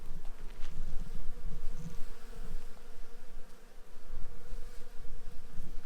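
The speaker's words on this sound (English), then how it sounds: "Only that is making noise is this bees." Bees buzz continuously all around a quiet beach area in Sithonia, Greece, a dense droning hum that swells and fades as they move close and away, with no talking.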